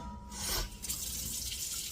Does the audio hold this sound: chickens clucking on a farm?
no